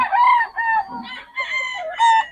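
A three-year-old gamefowl rooster at a game farm crows loudly and close by, a long strained cock-a-doodle-doo with harmonic, wavering notes, followed by another call starting at the end.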